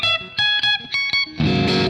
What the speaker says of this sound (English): there is a very high output on this guy already, and you can hear it's driving the distortion a bit.